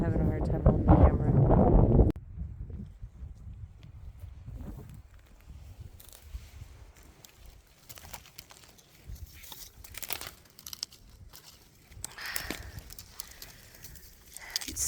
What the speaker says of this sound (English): Oh, it's windy. I'm having a hard time holding the camera.